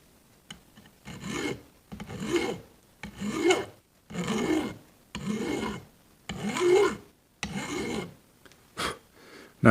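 A hand file rasps back and forth across the threaded section of a bolt clamped in a vise grip, six or seven long, close strokes with short pauses between them and no talking.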